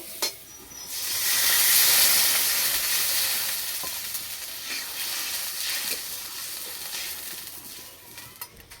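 Water poured into a hot pan while cooking lentil fritters, bursting into a loud hissing sizzle of steam that swells, then slowly fades to a softer bubbling fry with a few clicks.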